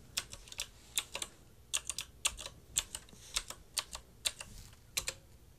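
Typing a password on a computer keyboard while logging into a cloud server: a run of crisp, close key clicks in uneven bursts with short pauses between groups, alone with no talking.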